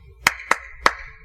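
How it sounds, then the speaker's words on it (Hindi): Three sharp, separate hand claps at an uneven rhythm, crisp and close, with quiet between them. "बजाया ताली"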